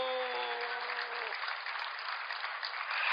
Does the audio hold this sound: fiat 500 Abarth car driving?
no